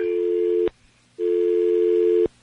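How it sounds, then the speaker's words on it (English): Telephone tone heard on a line after the caller hung up: two loud, steady beeps, the first about half a second and the second about a second long, separated by a short gap of silence. "I could hear the dial tone at the same time"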